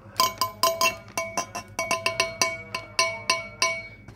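Repeated metallic clinks and taps on a fake Norifumi motorcycle exhaust muffler, a returned counterfeit can-type pipe, ringing in a rapid irregular series of about twenty bright strikes, close and alone.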